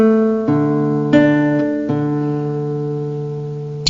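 A few plucked classical guitar notes from Country Dance ring out one after another with a sustained bass, letting the chord resonate and slowly fade.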